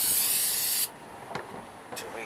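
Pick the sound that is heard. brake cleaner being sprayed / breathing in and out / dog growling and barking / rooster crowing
brake cleaner being sprayed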